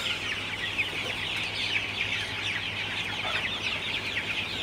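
Sonali super hybrid chickens at 42 days clucking in hot, humid weather, a dense chorus of overlapping clucks and chatter from a flock nearby, continuous and moderately loud, with no voices.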